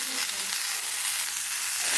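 Papaya curry with salt and turmeric sizzles in a pan while being stirred, a steady close crackle of frying with no talking.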